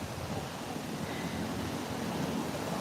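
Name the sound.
wind blowing at a beach in Da Nang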